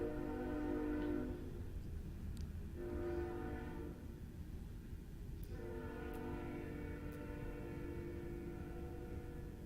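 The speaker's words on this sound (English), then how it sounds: "I'm going to let the train go by." A train rumbles past with a steady low roar and rhythmic rail clatter, its horn sounding in long tonal blasts that rise, fall away and return near the end.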